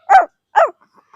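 A four-year-old child imitates a puppy with two short, close yipping barks, followed by a few faint soft whimpers.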